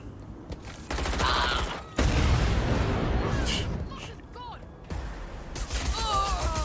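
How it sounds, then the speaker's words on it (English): Rapid bursts of gunfire in the video game Watch Dogs Legion, dense and continuous, mixed with other game effects and voices. "Stop shooting at me!"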